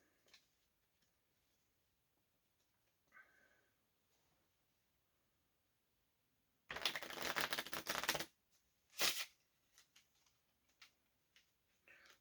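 Someone riffle-shuffles a new, slippery deck of playing cards: a quiet rustle, then a loud, dense flutter of cards lasting over a second, followed by a short second riffle and a few soft taps.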